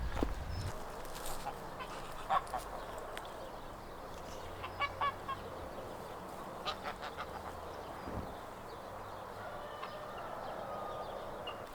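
Geese honking in a fenced orchard enclosure shared with ducks, repeated short honks and cackles at close range over a busy farmyard background, with occasional quacking.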